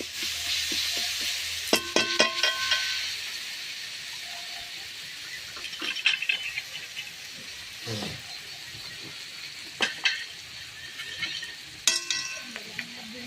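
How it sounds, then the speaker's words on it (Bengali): Turmeric masala frying in hot oil for a bhola fish oil curry gives a steady bright sizzle, broken by several sharp spoon scrapes and knocks against the pan as it is stirred. "দিয়ে ভালো করে মশলাটা কষিয়ে নেব।"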